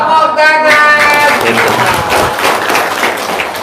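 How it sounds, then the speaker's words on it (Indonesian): Audience applause at a testimonial talk, loud clapping that begins right after a brief voice and holds steady before easing slightly toward the end. "Tepuk tangan."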